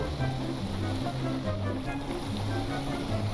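A boat engine hums steadily over ocean wash and wind in the video game Stormworks, a continuous low drone with surf noise, no clear rise in throttle.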